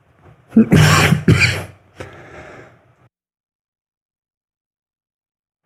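A few harsh, raspy coughs from a lingering COVID cough close up, two strong bursts followed by a weaker one, then silence.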